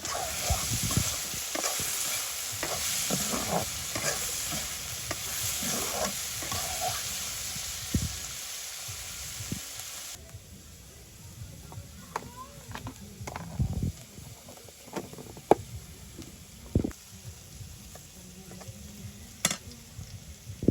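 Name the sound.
potatoes and long beans frying in a pan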